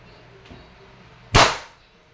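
A Crosman Mag Fire Ultra break-barrel air rifle fires a single sharp, close crack that fades quickly against a quiet background.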